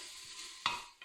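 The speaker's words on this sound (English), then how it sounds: "Give it a good stir." A short scrape of stirring cinnamon stick, star anise and Sichuan peppercorn in a hot pot, with a faint sizzle and two quick utensil strokes.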